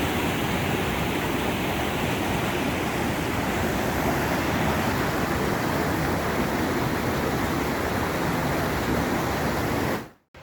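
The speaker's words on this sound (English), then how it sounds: "We're still following the brook, meandering along it." A brook flowing beside a mountain hiking trail gives a steady, broad rush of water, loud and unbroken for about ten seconds before cutting off abruptly.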